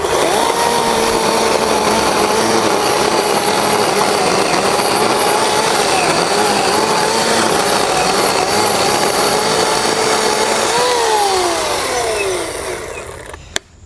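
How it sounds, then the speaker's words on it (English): An 18-volt Ridgid 12-inch cordless chainsaw cuts through cedar, its loud, continuous whine holding steady, then dropping in pitch as it winds down at the end. "I got a chainsaw. Super high powered. 18 volt rigid 12 inch monster."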